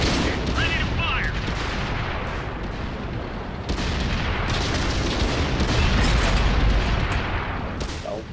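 Tank guns fire in World of Tanks, dense booming and crackling blasts layered with rumbling battle noise, loud and continuous with a sharp report near four seconds, with a player talking faintly underneath.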